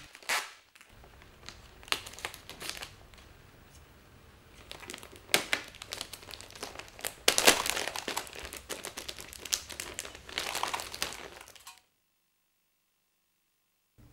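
Thin reflective insulation film and adhesive tape being handled around ceiling hangers during drywall framing, giving close, irregular crinkling and crackling bursts that swell and fade for about eleven seconds before stopping abruptly.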